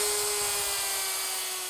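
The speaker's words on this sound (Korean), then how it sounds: "원활한 작업을 위해 자체 제작한 당구대 상판용 전기톱이라고 하는데요" A custom-made electric saw trims the wooden edge of a billiard table top, giving a continuous high whine with a steady tonal hum that fades slightly over a short burst.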